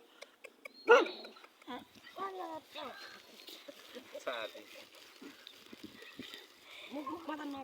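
Dogs bark in a few short, close bursts, loudest near the start, while people talk over and between them.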